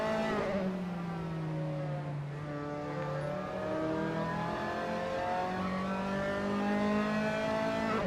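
Formula 3 race cars in Assetto Corsa at the Nürburgring, several engines droning together in a steady, close pack with rising and falling pitch as they pass through a chicane toward the final turn, with no talking.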